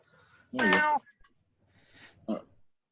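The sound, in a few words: cat meowing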